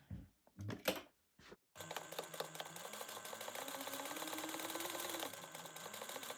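A sewing machine runs a basting stitch along an eighth-inch seam on a bag, with a few clicks and handling noises first, then a steady, continuous whir of fast stitching that rises slightly in pitch mid-run before settling.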